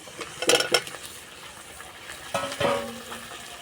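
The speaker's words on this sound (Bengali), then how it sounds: "এবার ভেজে রাখা আলু দিয়ে দেবো।" Previously fried potatoes tipped into a pan of vegetarian potato-cauliflower curry with a little water and sugar, then stirred: two short bursts of scraping and clatter close by, followed by a quieter sizzle and a second round of stirring.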